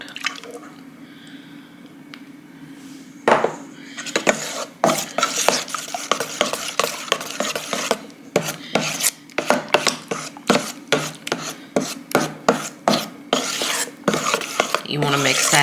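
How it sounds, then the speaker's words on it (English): Coffee cake batter made with buttermilk and vanilla being mixed in a bowl, a steady scraping and stirring with rhythmic spoon strokes that grow louder and more regular partway through, close up and without talk. "You want to mix that until everything is all mixed together."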